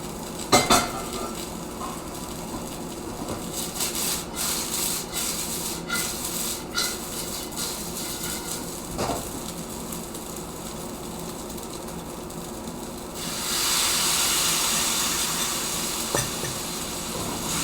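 A spatula clatters and scrapes in a wok as pan-fried tofu, chicken and black beans are turned in thickening black bean sauce. Repeated metallic knocks and scrapes sound over a low sizzle, and a louder hiss rises near the end.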